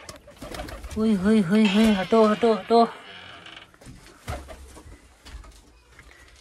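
Domestic pigeons coo in a rhythmic series of soft, throaty calls lasting about two seconds, close by, followed by quieter rustling and a brief spoken word.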